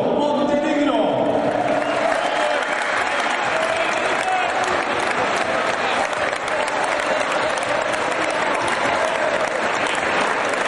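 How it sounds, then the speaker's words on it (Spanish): A crowd at a youth football season-closing event applauds the coach, with loud sustained clapping and some cheering that continues steadily for about ten seconds, and voices mixed in at the start. "Bien fuerte el aplauso para el director técnico."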